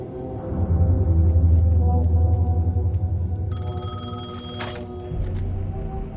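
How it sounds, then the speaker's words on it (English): A payphone in Alan Wake II rings over a low droning ambient score, a brief metallic electronic trill rising midway through the eerie, sustained background hum. "The payphone was ringing."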